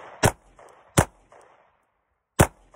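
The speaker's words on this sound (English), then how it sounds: "Now I've got it all taped up, let's shoot it." A 9mm handgun fires three loud, sharp shots at homemade armor from 7 yards, two in quick succession and a third after a pause, each with a short echo.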